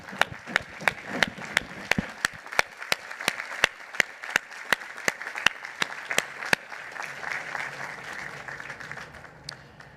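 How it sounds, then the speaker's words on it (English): A crowd at the Illinois Tech 2022 commencement applauds staff members, a steady bed of clapping fairly distant, with one pair of hands close by striking sharp, regular claps for most of the stretch before they stop. "Could all of our staff members please rise so that we may give you a round of applause?"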